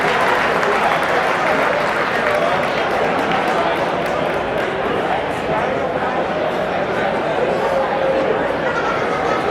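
An audience at a charity auction event breaks into sustained applause after a sale, a dense, continuous clapping roar with scattered voices mixed in.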